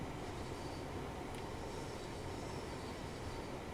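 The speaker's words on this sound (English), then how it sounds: "Oh, there's a train coming down there." A passing train in the Train Sim World 4 game on the Newton to Glasgow Central route, a steady low rumble of wheels and carriages heard alone at a fairly quiet level, with no voices.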